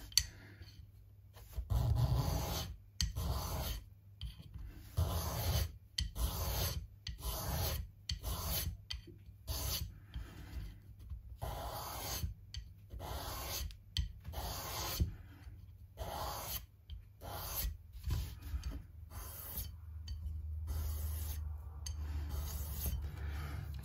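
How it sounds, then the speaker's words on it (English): A small plastic model kit part is sanded by hand on one side, giving close, intermittent rasping strokes in short bursts separated by brief pauses over a quiet background. "Difficult to sand just one side of it, but that's what I'm trying to do here."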